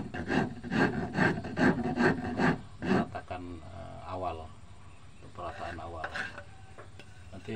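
Slightly rusty but sharp hand plane (ketam) flattening a wood surface, a run of rhythmic rasping strokes in quick succession, then someone talking.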